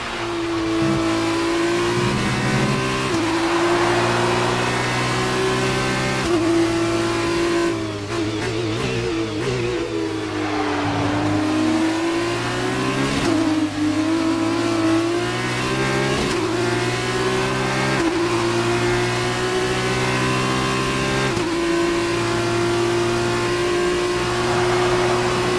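Formula racing cars in a racing video game, a loud whining engine note that climbs through the gears with quick shift drops, sustained and close throughout with no talk.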